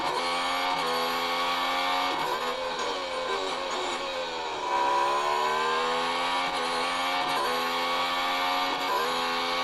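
A Formula 1 race car engine screams up through the gears in repeated high-pitched accelerating sweeps, loud and close, in a drag race alongside a Mercedes C63 and Porsche GT3 R, with no talk.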